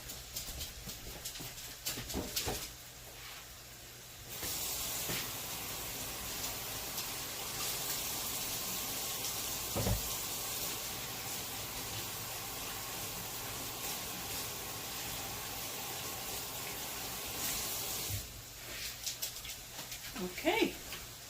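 Tap water running steadily from a kitchen faucet while hands are rinsed, a continuous hiss lasting about thirteen seconds, with clatter and handling sounds before and after.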